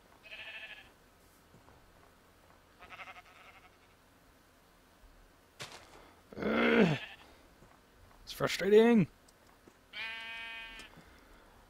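Sheep in the Minecraft video game bleating several times, short separate cries spread across the span with quiet gaps, someone speaking briefly between them.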